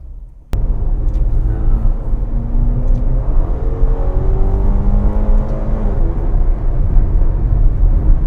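Heard from inside the cabin, a Ferrari GTC4Lusso T accelerates with a loud, smooth engine drone whose pitch climbs steadily through rising harmonics after a sudden onset, with no talk.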